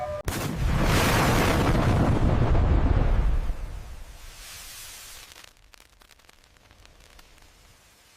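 A rocket from a WWII-era U.S. program built on captured German rockets launches with a loud roaring rush of exhaust that swells for a few seconds and then fades into a distant, thinning rumble.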